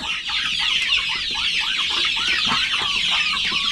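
Many chickens cluck and chatter together in a busy, overlapping chorus at a pig-roasting pen, close by and fairly loud, with no talking.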